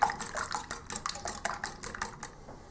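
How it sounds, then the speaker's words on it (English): A whisk beats sweetener syrup into liquid muffin batter in a bowl, a quick run of about a dozen light, wet clinking taps against the bowl, close and fairly faint, with no talking. "I'm just going to give that a whisk"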